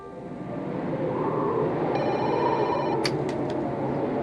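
Telephone ringing faintly under a steady wash of background noise, with a tonal ring in the middle followed by a few short chirps near the end.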